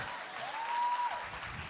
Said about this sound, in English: clap him